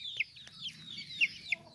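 A chicken clucks nearby in a few short, sharp bursts over quiet background noise.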